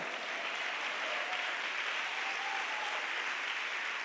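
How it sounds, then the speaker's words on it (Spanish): Congregation applauding in a church service, a broad, steady wash of clapping with a faint sustained tone wavering underneath, evenly loud from start to finish. "Aplauda al Señor."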